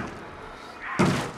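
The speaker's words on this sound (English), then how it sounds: "Sounds like he's busting down a door." A heavy door being slammed and busted down in the horror game Outlast: Whistleblower, a single loud thud after a low ambient hum.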